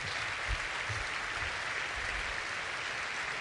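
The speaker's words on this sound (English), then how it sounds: "I want them all to stand up and to receive the warm applause that they all deserve." A large audience at a Ferrari Formula One car launch ceremony applauds steadily, a dense continuous wash of clapping heard from a distance.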